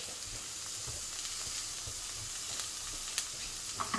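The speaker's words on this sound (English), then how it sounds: "Not too much oil, you're not deep frying it, remember? Just sauteed veg." Steady crackling sizzle of vegetables sautéing in a little oil in a hot pan, with occasional louder pops and faint stirring sounds, continuous and close.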